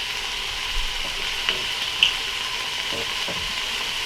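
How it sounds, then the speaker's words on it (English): Oil sizzling steadily in a pan with vegan sausage as a roux is started, a continuous close frying hiss with a few soft clinks. "we're going to add just a touch more oil so we can go ahead and make our roux"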